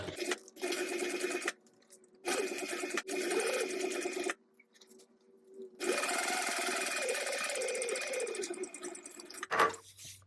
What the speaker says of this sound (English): We're going to top stitch 1/8 of an inch away from the seam that we just created.